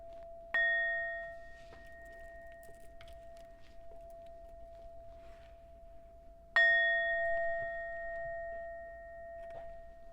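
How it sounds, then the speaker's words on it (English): A meditation bell rung during an energy-clearing session, two clear struck tones with sustained shimmering overtones that slowly fade, the strikes spaced about six seconds apart, heard alone in a quiet room. "I'm just going to ring the bell."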